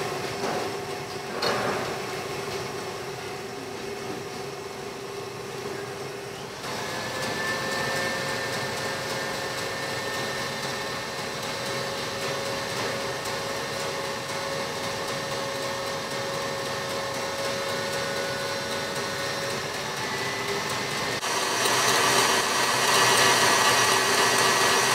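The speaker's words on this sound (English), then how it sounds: "Start whisking so they're nice and fluffy." Electric mixer whisking egg whites into a fluffy meringue for lamingtons, a continuous close whirring hum for the whole stretch, shifting up in speed partway through and louder toward the end.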